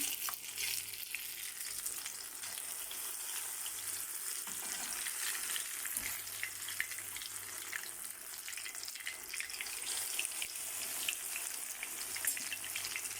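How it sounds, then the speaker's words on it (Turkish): Eggplant slices frying in hot vegetable oil in a pan, a dense continuous bright sizzle holding steady and fairly close from start to finish. "Isınmış olan yağın içerisine patlıcanlarımı bırakacağım."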